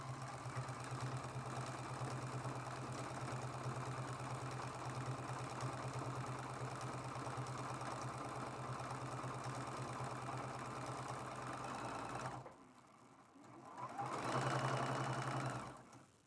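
A sewing machine runs a steady seam through a quilted mug rug with batting, a continuous even whir that stops briefly and then resumes for a short burst.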